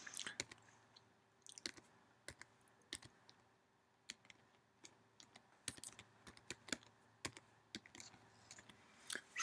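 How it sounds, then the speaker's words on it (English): Scattered keystrokes on a computer keyboard come in short irregular bursts with pauses, crisp clicks heard up close against a quiet room. "let's type a little bit in here"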